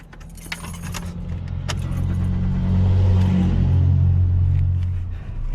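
Keys jangle close by in a 2001 Toyota Corolla CE, then the engine cranks and catches into a steady, loud idle rumble that swells and holds before easing slightly at the end.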